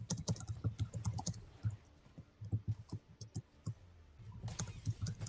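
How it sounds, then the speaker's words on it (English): Rapid clicking keystrokes on a computer keyboard during an Overwatch game, bursts of typing with short pauses between them, close and moderately quiet, no talking. "What are you typing? Where are you typing?"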